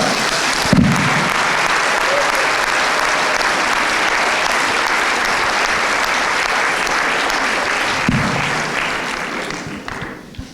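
At a pharmacy faculty graduation ceremony in Paris, the audience gives a film a long, loud, even round of applause of dense clapping that fades off toward the end.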